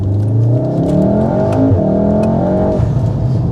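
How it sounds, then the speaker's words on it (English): A Mountune-tuned VW Golf R Mk7.5, four-wheel drive, pulls away from a junction in first gear, its engine note rising steadily and loudly from inside the car with no talk. "So we'll pull out of here, just see what it's like coming out of a junction"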